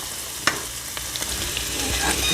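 Onions caramelizing in a frying pan for a French onion and apple grilled cheese, a steady close sizzle with a few scraping stirs and light clicks of the utensil against the pan.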